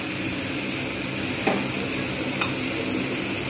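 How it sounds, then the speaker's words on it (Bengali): Ginger and mustard paste fries gently in a pan, a steady close sizzle with a couple of brief scrapes as it is lightly stirred, no talking. "জাস্ট আমি হালকা করে নেড়ে নেব।"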